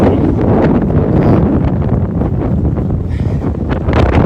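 Strong wind buffets the microphone in loud, continuous rumbling roars with surging gusts, steady winds around 35-40 mph gusting to 60 on an exposed hillside climb near Bozeman, Montana.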